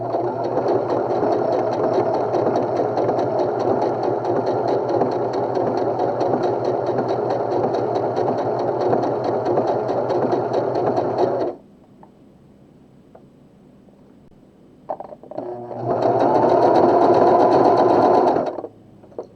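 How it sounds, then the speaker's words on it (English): A Pfaff sewing machine runs steadily stitching fabric, a loud continuous mechanical whir with rapid rattling for about eleven seconds, then a pause with faint clicks before it starts sewing again at full speed. "Hand turn to take 1 or 2 stitches onto the fabric, and then sew."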